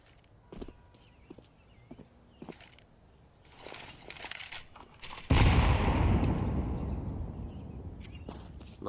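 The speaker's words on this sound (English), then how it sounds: "Not much damage done with those nades, Devaduvic." Grenades exploding in a Counter-Strike match, a sudden loud blast that swells and decays over several seconds after quieter scattered footsteps and game clicks; no voices during the bursts.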